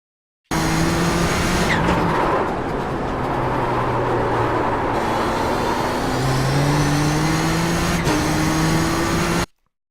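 Nissan GTP ZX-T prototype race car in iRacing at Watkins Glen, engine roaring loud and steady at speed, with pitch rising through the gears and a brief dip during a throttle lift.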